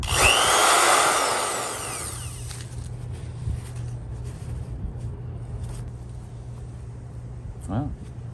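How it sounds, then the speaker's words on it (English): A 1980s Skil Model 598 Type 3 half-inch electric drill runs loudly for about two seconds, then spins down and stops, leaving a low hum and faint handling clicks. "a perfectly running 1980s Skil Model 598 Type 3 1/2 inch."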